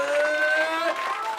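A crowd applauds actor Laurent Ournac at a summer campsite, clapping and cheering that swell quickly and stay dense and loud through a short burst, mixed with a voice.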